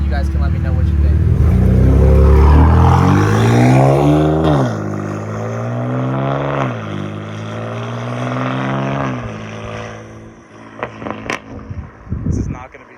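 A straight-piped BMW M3 accelerates past in a loud flyby, its exhaust rising in pitch through the gears with brief dips at the shifts, then fading into the distance before a few faint knocks at the end.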